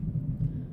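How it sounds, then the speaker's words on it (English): Thunder rolls in the Agatha Christie: Hercule Poirot game, a brief low rumble with no voices, heavy in the bass. "you hear that thunder?"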